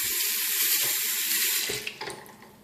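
Water runs from a faucet into a home bathroom sink, a loud steady rush that cuts off partway, followed by a few drips and splashes as the basin holds water.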